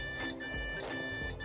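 A computer motherboard emits POST error beeps during RAM testing on a first-time PC build: a loud, steady electronic tone broken into repeating beeps about half a second apart.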